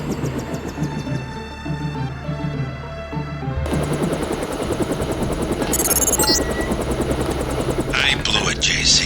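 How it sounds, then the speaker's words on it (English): A stealth helicopter in the Deus Ex video game drones with a loud, steady rotor thrum under a music bed, growing denser midway, with brief bursts of higher noise near the end. "Time to see if this stealth copter is worth all the fuss."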